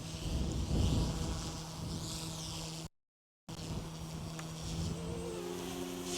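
A Goosky S2 MAX RC helicopter flies with a continuous buzzing rotor and motor whine, its pitch shifting as it moves, cut by a brief moment of silence, with no talk.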